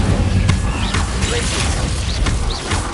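Fire spell cast in a wizarding video game, a dense burst of combat effects with thuds, crashes and bright whooshing streaks layered over a busy, continuous game soundscape.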